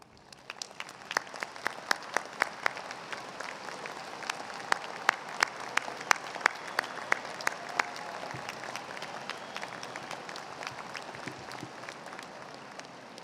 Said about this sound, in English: Please, we'd like all of you to stand so we can acknowledge and applaud you.